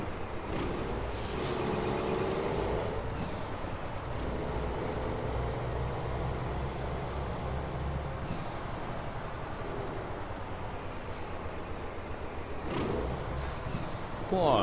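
Truck in the driving game American Truck Simulator, a steady engine drone with a high whine and occasional air-brake hisses and clunks, continuous at moderate level.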